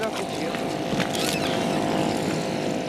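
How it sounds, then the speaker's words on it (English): An outboard motor drives a curragh, an Irish keelless boat with a long rising bow, giving a steady, loud, even drone with no break throughout. "The outboard motor is no stranger to the Curragh."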